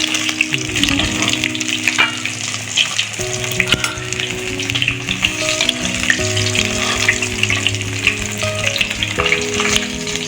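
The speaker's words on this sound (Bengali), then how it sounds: "মাথাটা সময় নিয়ে ভাজতে হবে।" A fish head fries in hot oil for a Bengali wedding-style chhyachra, giving a loud, continuous, close sizzle and crackle with faint tonal background music running underneath.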